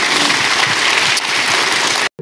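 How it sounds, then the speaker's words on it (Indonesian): Church congregation applauding loudly and steadily as one dense, continuous wash of clapping, cutting off abruptly near the end before a brief low hum. "Berikan tepuk tangan kita untuk dia."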